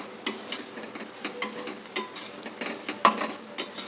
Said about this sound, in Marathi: आता याला आपण चांगलं परतून घेऊया